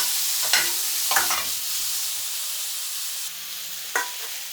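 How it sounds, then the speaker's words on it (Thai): Shrimp stir-fried in a pan give a soft steady sizzle, with a few brief scraping strokes of a utensil at intervals and a faint low hum near the end. "คั่วพัดไปหลังจากนั้นก็สิใส่กุ้งลงไป"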